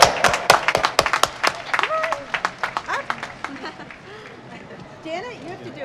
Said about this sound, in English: give yourself one more round of applause